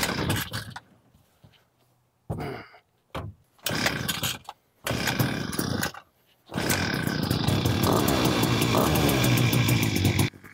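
Maxtra gas pole saw's small two-stroke engine sputtering through several brief starting attempts, then catching and running steadily at a loud, even idle for the last few seconds.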